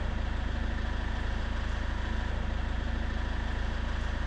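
A vehicle engine runs with its 12 V fridge switched on, giving a steady, even idling drone that never changes in level, with no voices.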